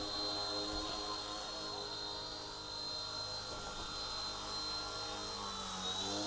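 A small Eachine E129 RC helicopter rotor whines steadily at a high pitch, holding a constant buzzing hum throughout with slight wavering in tone.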